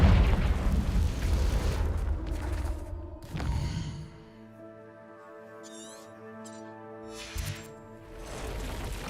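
A Confringo fire spell in Hogwarts Legacy bursts with a heavy explosive boom in a cave battle, the blast rumbling for a few seconds before fading into quieter game tones, with another short burst later.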